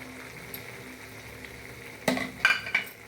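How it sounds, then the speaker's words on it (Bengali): A spoon stirs flour into simmering bottle gourd shukto, with soft bubbling underneath and several clinks of metal on the pot near the end. "এবার আমি এর মধ্যে একটু ময়দা গুলে দেব।"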